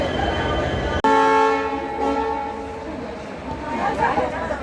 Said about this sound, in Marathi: आणि ट्रेन हलली